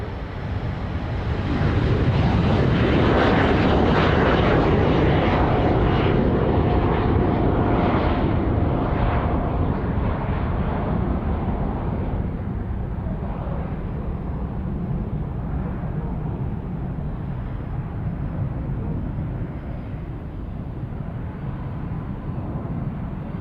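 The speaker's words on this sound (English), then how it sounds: "Singapore Airlines now coming out from behind the shrubbery," Singapore Airlines Airbus A350-900 jet taking off at Sydney Airport, a loud sustained engine roar heard from a distance that swells early and slowly fades as the aircraft climbs away.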